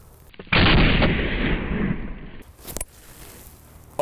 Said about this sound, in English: Okay, Hornady Critical Defense. Let's do this.